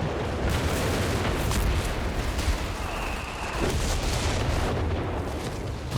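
A dense, rumbling barrage of artillery fire in the video game Company of Heroes 3, with booming impacts blending into a continuous loud roar and no pause, plus a brief higher tone midway.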